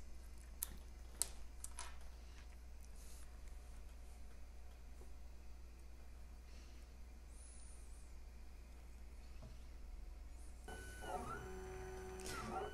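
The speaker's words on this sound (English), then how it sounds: "So it prints up to 65, I think, or 60 millimeters per second." A 3D printer prints at about 60 to 65 millimetres per second with a faint steady whir, soft ticking and a low hum, and a brief motor whine near the end.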